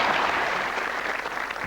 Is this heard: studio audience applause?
yes